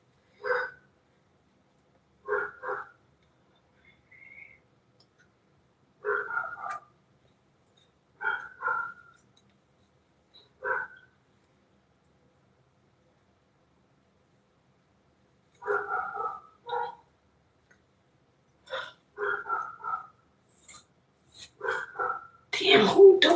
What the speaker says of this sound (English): who dog is that?